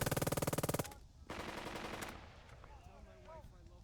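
Rapid machine-gun bursts from the war strategy game Burden of Command rattle out first, then a second noisy volley of gunfire follows before fading into quieter game sounds.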